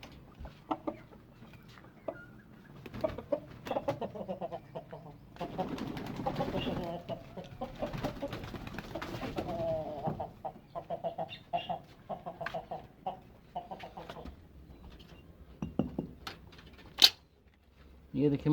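A hen sitting on her eggs gives soft, scattered clucks and low murmurs close by, faint and intermittent, with a voice talking over part of it and a few sharp handling knocks.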